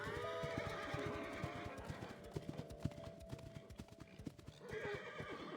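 Horses clip-clop steadily through a forest in the video game Love and Deepspace, hooves thudding in quick irregular rhythm with repeated whinnies and neighs over a busy, noisy background, fairly close and loud.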